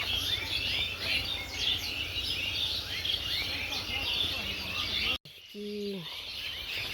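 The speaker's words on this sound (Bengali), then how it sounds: "বাবারি, পাখির ঝাঁক" A flock of birds gathers at dusk, a dense and continuous chatter of overlapping chirps and calls at moderate distance, then cuts off abruptly before a short stretch of quieter sound with a brief voiced tone.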